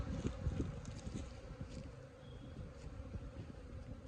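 Honey bees at an opened hive during a first spring inspection, a low continuous buzzing hum close to the microphone with occasional louder passes and a little wind noise.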